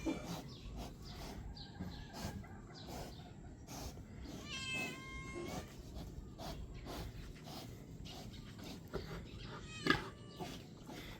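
A cat meows twice, about five seconds apart, each a short rising cry near the microphone, over a soft, noisy background.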